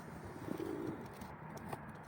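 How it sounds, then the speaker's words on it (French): A pigeon gives a soft, low cooing call near the start, then quieter background noise with faint rustling. "j'ai un nouvel arrivant en pigeon"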